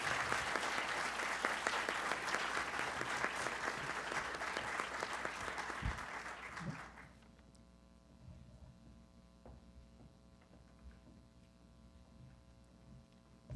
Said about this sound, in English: I'd like to give a huge round of applause to both of these deserving winners